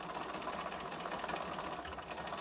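A sewing machine stitches along the edge of a fabric mask with a filter, turning a corner and running a seam, a steady, continuous close-up whir of the needle without pauses and with no voices over it.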